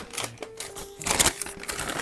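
Crinkling and rustling of a McDonald's paper bag being opened up close, with irregular crackles and a louder burst of rustling midway.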